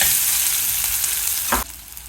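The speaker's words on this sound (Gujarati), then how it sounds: "તેલ ગરમ થતાની સાથે આપણે લઈ લેશું અડધી ચમચી જીરું. લઈ લેશું 1 પિંચ જેટલી હિંગ. લઈ લેશું થોડી એવી ડુંગળી કાપેલી." Chopped onions with cumin and asafoetida fry in hot oil, giving a continuous close sizzle with a brief scrape of stirring near the end, after which the hiss drops slightly.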